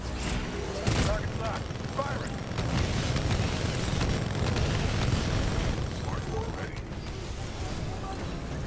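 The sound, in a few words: weapon firing and explosions in Titanfall 2 video game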